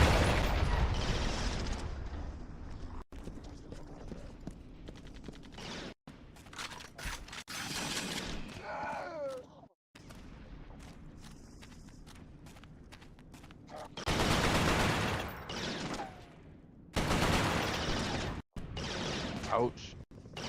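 Enemy gunfire in Resistance: Fall of Man, with repeated bursts of shots and loud, dense volleys that come and go. Mechanical clatter and other battle noise fill the gaps, and a player talks over parts of it.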